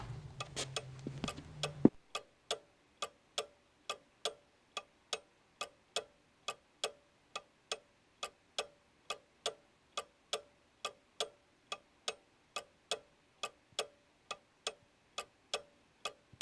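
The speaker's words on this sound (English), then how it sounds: "I guess the clock is kind of loud in this home, isn't it?" A loud ticking clock inside a home in the video game Gabriel Knight: The Beast Within, beating out a steady, evenly spaced tick alone for about fourteen seconds after a brief burst of other sound at the start.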